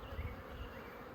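Honeybees buzzing at an open beehive during an inspection, a dense, steady close-up hum of many wings with a slight waver throughout the short moment.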